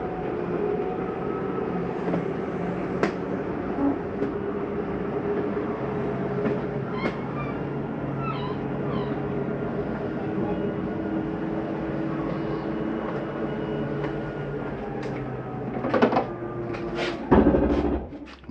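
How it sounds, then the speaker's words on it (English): Slide-out mechanism on a 2021 Jayco Eagle 336FBOK fifth-wheel retracting, a continuous mechanical drone that ends with a few louder clunks and knocks as it seats fully in. "It's just your slide mechanism saying, hey, I'm in all the way, you don't have to bring me in any further."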